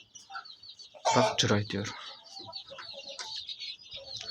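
Brahma hens and a rooster cluck in a chicken coop, with soft, scattered calls continuing around a person talking nearby.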